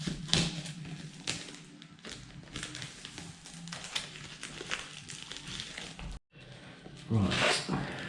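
A knife slices through the packaging of a watch box, giving scraping and crunching cuts in uneven bursts, close up, with someone talking over parts of it.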